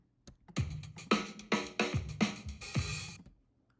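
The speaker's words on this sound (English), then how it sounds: "I'm going to use a drum sample" A drum sample played back: a short beat of punchy kick and snare-like hits with a crashing cymbal near the end, clear and close, lasting about three seconds.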